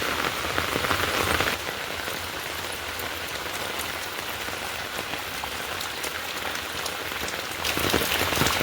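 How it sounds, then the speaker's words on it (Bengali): Heavy monsoon rain pours steadily and loudly on surfaces, a dense continuous hiss with scattered drops, slightly louder at the start and end. "আরও বৃষ্টি বাড়লো"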